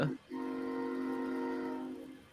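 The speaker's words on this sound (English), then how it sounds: "And the interrupting train." A passing train sounds a long, steady horn, loud and sustained for about two seconds after a brief break at the start, with no voices over it.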